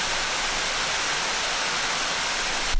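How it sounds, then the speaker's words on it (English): Spray Falls waterfall roars as a dense, steady broadband rush of falling water, loud and close, continuous throughout with no voices. "we're gonna see if we can find the way of getting on top of that waterfall"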